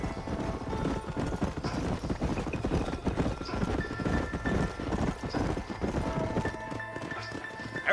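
Horses' hooves clip-clop in a steady, busy rhythm as several riders travel together in the Red Dead Redemption video game, loud and continuous from start to end.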